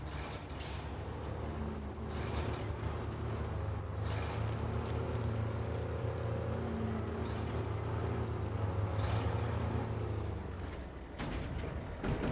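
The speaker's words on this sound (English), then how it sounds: "I think it makes a great sound, this truck." A heavy truck engine in the SnowRunner video game rumbles at a steady low drone while driving through Alaska terrain, building in level and holding for several seconds before easing off, with a few brief clicks and knocks.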